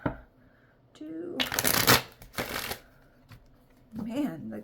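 Tarot cards are shuffled in loud riffled bursts during a reading, with quieter stretches of talk before and after the shuffling.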